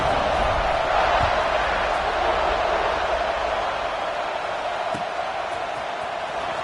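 A football stadium crowd just before a kickoff, forming a dense, steady roar of many voices that holds evenly from start to finish with no single voice standing out.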